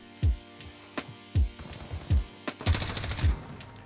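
An MP7 submachine gun in Call of Duty Modern Warfare fires several short, punchy shots in quick succession, followed by a denser rattling burst, loud and close with no talking.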